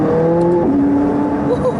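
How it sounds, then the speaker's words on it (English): Loud, close drone of a McLaren 675LT engine in manual mode, with a quick upshift that drops the pitch partway through, under a talking voice. "the upshift noise was awesome"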